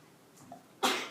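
A single person's sneeze comes in a classroom, with a faint intake of breath and then a sharp, loud burst that fades quickly.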